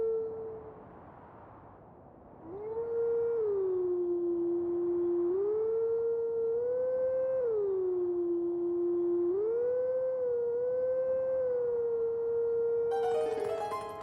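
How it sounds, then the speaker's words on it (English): A wavering, dog-like howl from Twilight Princess HD rises and falls in long sustained notes after a quieter start, clear and prominent, ending with a brief burst of other game sound. "A dog? Yeah, I'd say so."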